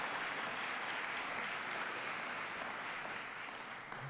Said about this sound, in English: I'd like to just first give a round of applause for Platinum and the whole Full Sail team.